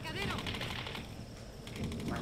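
Rapid gunfire from the Tomb Raider video game rattles in continuous bursts, loud and close, over busy in-game background sound.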